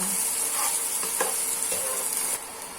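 Garlic and pounded chili stir-frying in hot oil, a steady close hiss and sizzle with occasional light scrapes of a spatula, continuous throughout and easing slightly near the end.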